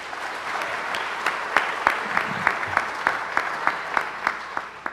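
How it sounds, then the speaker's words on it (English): An audience at an evening excellence celebration claps, a moderate round of applause with a few sharp, regular claps standing out near the microphone. "please give them an applause"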